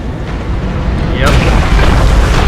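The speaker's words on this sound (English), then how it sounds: "let's run because the explosion is really big" A big explosion from a planted bomb in Metro 2033, a loud, sustained rumbling boom that swells midway through, with game noise and speech mixed in.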